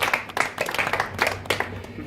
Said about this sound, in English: you can go back to sit and have a round of applause